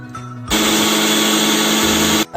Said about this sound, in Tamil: திருப்பி இதை வந்து ஒரு 2 மினிட்ஸ் பிளெண்ட் பண்ண போகிறோம்.